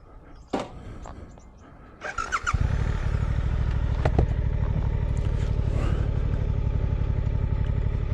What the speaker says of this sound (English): let's start it up and take it for a ride.